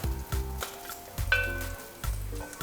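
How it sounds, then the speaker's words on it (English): Tuna fries in a pan, sizzling in bursts with soft stirring scrapes and a faint clink, crackling rising and falling close by with no talk. "it's been about 3 minutes of the tuna sizzling in there"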